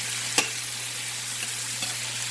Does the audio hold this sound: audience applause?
no